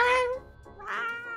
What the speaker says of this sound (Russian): Что за кошка?